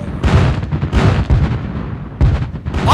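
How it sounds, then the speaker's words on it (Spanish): Heavy booming blasts of cannon fire, several deep explosions in quick succession with rumbling tails, loud and close. "Durante 5 días el bombardeo fue atroz."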